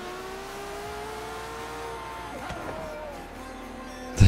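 Engines of Lamborghini, Mercedes and other supercars in the Forza Horizon 3 racing game, a sustained droning rev with shifting pitch as cars accelerate, ending in a sudden loud burst.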